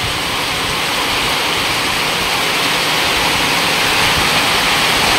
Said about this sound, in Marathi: वारो पण सुटलो आ जोराचो आणि पाऊस पण इलो आ